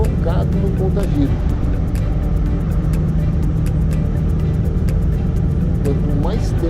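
Mercedes-Benz 3344 truck diesel engine running steadily at about 1,200 rpm, a loud continuous low drone with faint regular ticking, a voice talking over it.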